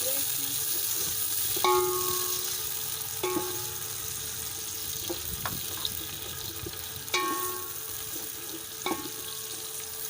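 Onions frying in a pan for pakora kadhi, a steady close sizzle running throughout with a few sharp clinks of a stirring utensil against the pan.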